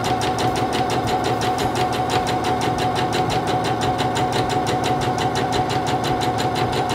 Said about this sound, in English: Now I'm going to continue sewing down my seam.